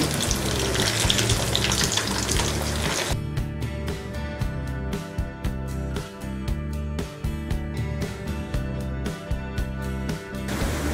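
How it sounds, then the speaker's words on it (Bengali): Noodle cutlets fry in a pan over medium heat, making a dense, close hiss that is strongest at first and then sits beneath rhythmic background music. "এবার আমি কাটলেটগুলো উল্টিয়ে দিব আর চুলার আঁচ অবশ্যই মিডিয়াম করে দিয়ে ভাজতে হবে"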